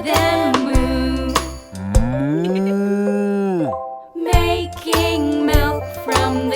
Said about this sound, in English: hear them moo.